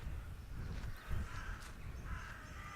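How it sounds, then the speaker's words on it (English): Crows caw in the video game The Last Door, a few harsh calls rising over a steady blowing wind that fills the background. "We need to search out for just the crow sound."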